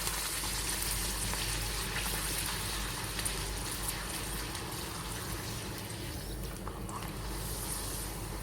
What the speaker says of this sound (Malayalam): അപ്പോൾ നമുക്ക് പപ്പടവും കൂടെ വറുത്തെടുക്കാം.